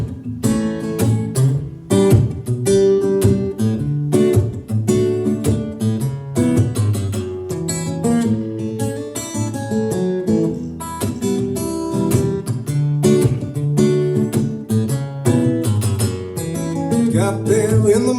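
Grooving instrumental tune, played at a Dusty Strings showcase. The plucked strings are bright and full, in a steady, rhythmic flow with no talking.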